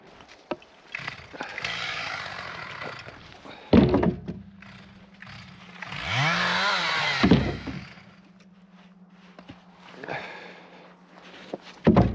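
A motorized saw cutting firewood logs about a metre long revs and cuts in bursts, with loud whining and a low engine drone between cuts, punctuated by heavy thunks of wood.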